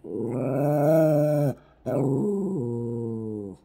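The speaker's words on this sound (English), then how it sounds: "my dog seems to want to." A dog growls in two long, loud, close grumbles with a steady throaty tone, separated by a short pause, with no talking.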